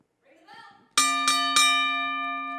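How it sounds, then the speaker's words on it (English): A ring-side bell struck three times in quick succession to start a wrestling match, loud metallic clangs with a long sustained ring after each strike, preceded by a brief murmur of voices. "You can ring the bell."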